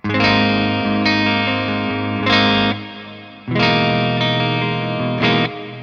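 Bright, ringing electric guitar chords strummed one at a time through a clean amp channel with the bright switch on, each left to sustain and decay, with a crisp, sparkly top end and no talking.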